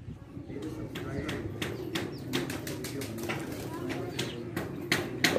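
A pet pigeon flies in over rooftops, with soft wing flaps and cooing among other birds, while someone talks over the scene at a moderate distance.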